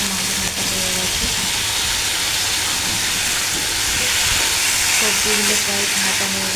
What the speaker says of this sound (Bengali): সবজিগুলো প্রায় ভাজা হয়ে গেছে